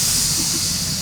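Steady, loud hiss of steam, continuous and close for about a second with a low rumble beneath, during a live improv stage show.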